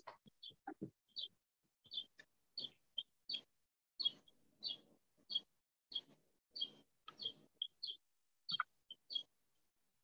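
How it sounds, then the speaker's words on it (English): A small bird chirps repeatedly in the background, with short, high, fairly faint calls coming in a steady irregular series throughout and no talking. "Somebody got a bird."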